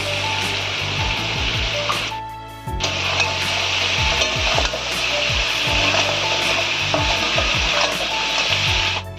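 Crab frying in a pan with Kashmiri chili powder and black pepper, sizzling steadily while a utensil scrapes and stirs in repeated strokes, loud and close, with a brief pause partway through.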